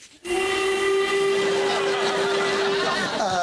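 A steam train whistle blows loud and sustained, a single steady tone with rich overtones that starts abruptly and holds for several seconds, heard alone without talk.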